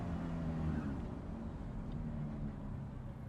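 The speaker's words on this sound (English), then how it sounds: "just listen to the engine" A 2008 Ferrari F430 Spider manual convertible with its top down hums with a steady, low engine drone that stays even and unbroken throughout.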